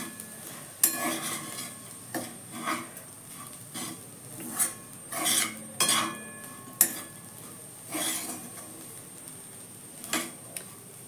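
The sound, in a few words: sautéing bitter gourd sabzi in a pan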